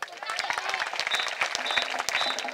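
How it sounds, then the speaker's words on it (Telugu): Students at a Gurukula residential school applaud together, a dense, steady burst of many hands clapping close by that fills the whole stretch, with scattered voices mixed in. "ముఖ్యమంత్రి గారికి చప్పట్లు కొట్టనవద్దా?"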